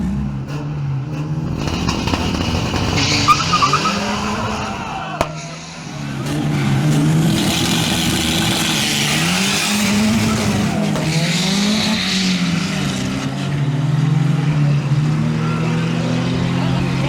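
Renault 18 and Mitsubishi Colt launching side by side at a drag strip, with loud sustained engine roar rising and falling over about seventeen seconds, brief tire squeal, and a muffled announcer voice in the background.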